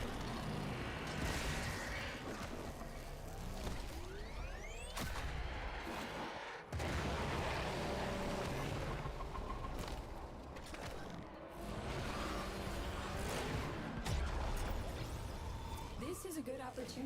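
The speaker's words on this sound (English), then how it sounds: "There should be useful detritus falling from the explosion" Explosions and rattling gunfire erupt during a Warframe battle, with heavy bursts and sharp blasts over a dense, continuous combat din while a voice talks throughout.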